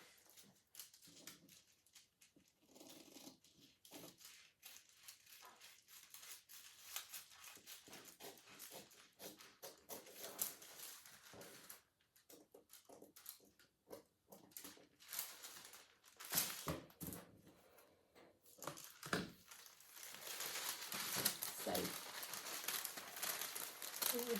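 Scissors cut through paper for a jeans sewing pattern, with soft, uneven crinkles and snips. The paper rustles close by and grows louder toward the end, with no talk.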